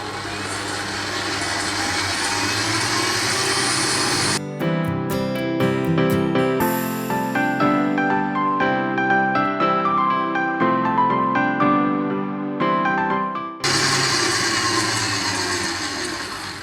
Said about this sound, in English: So first, we are going to whisk the egg whites until they have stiff peaks.